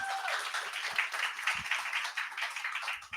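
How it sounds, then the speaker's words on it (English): An audience at an entrepreneurs' event gives a round of applause for a speaker, a thinner, fairly quiet patter of clapping with uneven, separate hand strikes throughout. "Round of applause, please."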